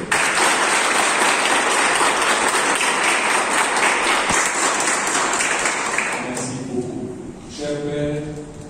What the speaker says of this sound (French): Par ces applaudissements, nous voulons vous dire un grand merci.